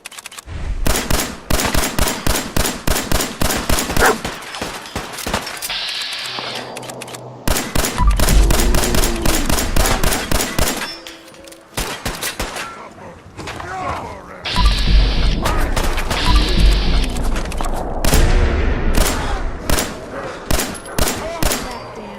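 Rapid bursts of gunfire from Fallout 4 VR, loud and close, repeating in long volleys with short pauses and a voice speaking between them.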